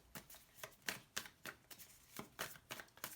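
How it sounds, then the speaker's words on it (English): Tarot cards are shuffled by hand in quick, crisp riffling bursts with short pauses between them. The bursts are close and quiet, with no talk. "One last shuffle, please."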